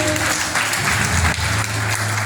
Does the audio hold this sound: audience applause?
yes